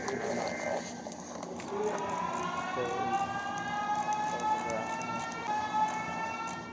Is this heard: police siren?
yes